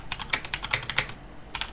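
Typing on a computer keyboard, quick bursts of close, crisp key clicks in an uneven rhythm with a short pause before a final flurry, no voices.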